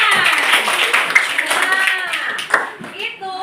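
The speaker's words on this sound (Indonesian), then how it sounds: "Iya, tepuk tangan." Fourth-grade classroom children applaud in a short burst of scattered clapping, mixed with young voices chattering and calling out over the claps.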